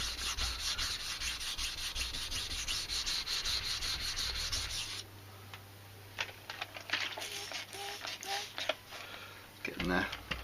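Rusty carbon steel blade of a Mora Scandinavian knife being sanded by hand: steady, close scratchy rubbing strokes for about five seconds, then quieter intermittent scrapes and shorter passes.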